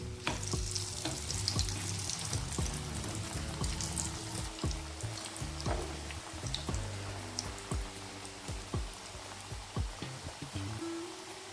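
Homemade chicken nuggets frying in a pan give off a steady sizzle with occasional clinks and stirring noises, set under background music with no one speaking.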